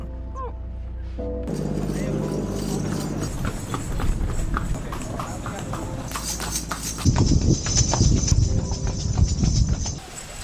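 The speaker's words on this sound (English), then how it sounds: "to the hotel you can get only by local carts with horses" Steady clip-clop of horse hooves on a hard road with rolling noise from a horse-drawn cart on the Gili Islands, faint street sounds and brief talk mixed in.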